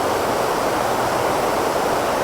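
A strong river running high and fast after heavy rain, a steady, loud broadband rush of water filling the whole stretch without a break.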